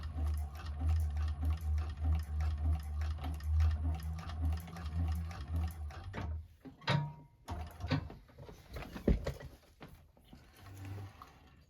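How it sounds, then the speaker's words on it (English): A 1341 cylinder arm sewing machine sews across a seam in a bag, its rapid rhythmic needle chatter running steadily for about six seconds, then stopping and giving way to scattered clicks and handling noises. "just sew across at the seam allowance"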